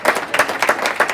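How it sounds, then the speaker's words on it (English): Audience applause for a black belt graduate at a martial arts graduation ceremony, a steady round of clapping from a crowd with rhythmic bursts over about a second. "Let's give a round of applause."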